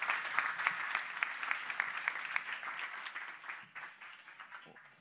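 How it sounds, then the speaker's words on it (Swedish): An audience at WordCamp Stockholm 2016 applauds a speaker, moderately loud clapping that continues steadily and then thins out toward the end, with a voice briefly heard over it. "Och en stor applåd."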